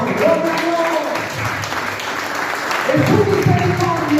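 Congregation applauding during a church service, a steady wash of clapping mixed with cheering voices, loud and close throughout.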